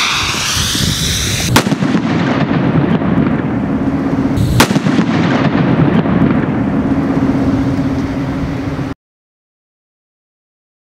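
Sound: heavy firework bangs

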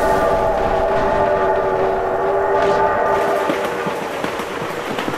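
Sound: train passing in the video game BeamNG Drive

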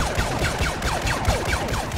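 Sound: blaster cannon fire in video game

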